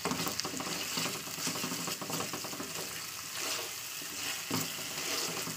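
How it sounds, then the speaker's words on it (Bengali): Ginger paste frying in hot oil over low gas, a steady dense sizzle with occasional stirring scrapes, close and loud throughout, with no talking. "এটাকে আবার এটা 2-3 মিনিট আবার কষিয়ে নেবো তেলে"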